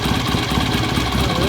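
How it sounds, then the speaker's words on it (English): A BSA A65 motorcycle engine runs close by with a dense, even, pulsing chug that continues steadily without pause. "so we're going to carefully start the bike even though we have a small gas leak"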